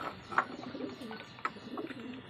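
Pigeons coo softly at a distance, a few low murmuring calls with faint chirps scattered over quiet background noise.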